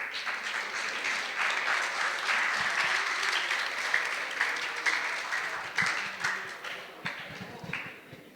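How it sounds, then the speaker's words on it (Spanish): Audience applause at a conference on Benito Juárez in Coahuila, steady clapping from a crowd that swells and then breaks into scattered claps as it fades, with no talking. "Un fuerte aplauso, por favor."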